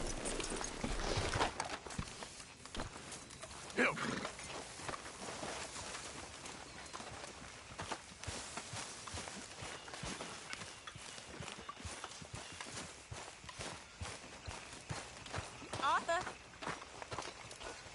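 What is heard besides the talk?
horse hooves clip-clopping in Red Dead Redemption II video game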